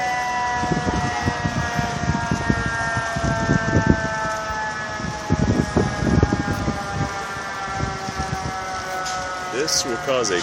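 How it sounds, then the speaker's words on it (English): A fire truck siren wails steadily over road noise at a truck fire on the 5 freeway in Mission Viejo, its rising and falling tones continuing throughout while people talk nearby. "Here comes a fire truck."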